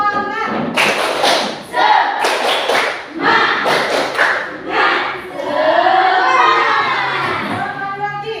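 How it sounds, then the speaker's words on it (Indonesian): A group of children giving a rhythmic spirit clap during a school lesson, with bursts of claps, stamps and shouts in a patterned sequence, then cheering voices toward the end. "Tepuk semangat."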